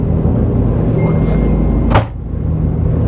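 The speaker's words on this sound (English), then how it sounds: "There's a door closing down below." A door closes below deck on a Zeelander Z5 motor boat, one sharp thud heard over the steady engine and water rumble.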